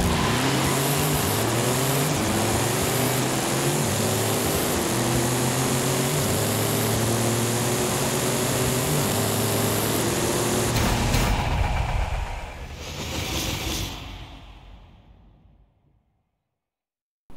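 A Mercedes X-Class and a Ford F450 Dually race side by side in Forza Horizon 5, engines roaring loud and close as they rise through repeated gear shifts, then fading as they pass and die away into silence.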